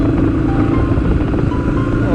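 Motorcycle engine droning steadily while riding toward Gulmit in the northern mountains, a loud continuous low rumble with wind noise throughout.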